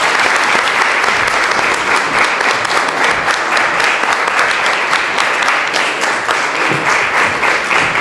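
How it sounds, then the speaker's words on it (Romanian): A studio audience on a Romanian folk travel programme in Florești breaks into loud, sustained applause that stays dense and even throughout, with no voices over it. "vă rog să o primiți cu aplauze și cu bucurie pe doamna Sava Negrean"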